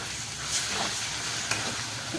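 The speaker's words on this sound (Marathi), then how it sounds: "त्यामध्ये चटणी चांगली परतून झाली की त्यामध्ये अंडी फोडून घालायची" Eggs cracked into a pan of frying egg chutney for anda bhurji sizzle with a steady, close hiss and faint stirring, and a brief sharper crackle about midway.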